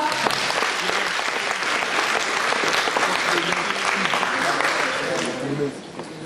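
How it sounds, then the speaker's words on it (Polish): Loud, dense audience applause at a cosplay costume contest during the Polcon 2016 convention in Wrocław, a sustained wash of many hands with voices faintly mixed in, easing just before the end. "wielkie brawa"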